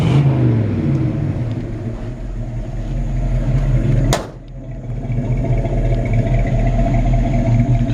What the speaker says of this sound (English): Just an iconic V8 sound, you gotta love it.